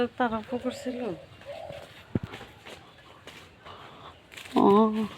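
Dove coos sound in a village setting, a few soft hooting calls near the start and a louder burst near the end, with people talking nearby and footsteps in between.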